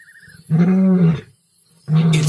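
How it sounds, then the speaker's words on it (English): An old wild lion roaring over a stolen kill, two loud, deep, drawn-out roars close by separated by a short pause. "His roar is a powerful weapon."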